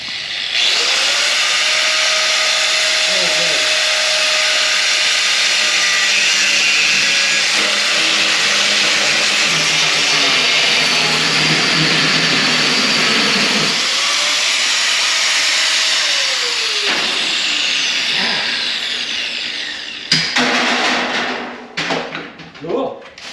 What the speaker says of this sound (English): But I'll be able to cut that metal off right there.